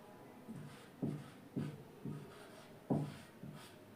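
Writing out calculations during a lesson on tax, with a series of distinct tapping and scratching strokes on a surface at an uneven pace, close and fairly quiet, without talk.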